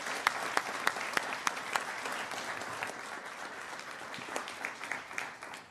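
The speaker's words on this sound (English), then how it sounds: "Let's give all of our yearbook staff and advisors a big round of applause" A school board meeting audience applauds the district's yearbook staff and advisors. Sharp individual claps ring out over a steady wash of clapping that gradually thins and softens toward the end.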